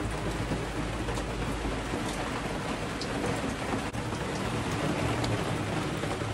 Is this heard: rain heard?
yes